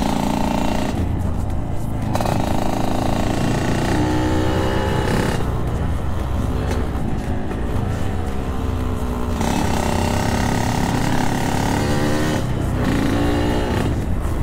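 A crowd of motorcycles and scooters, including a Yamaha RX-King, idles and revs nearby, engines droning loud and continuous with rising and falling throttle blips throughout.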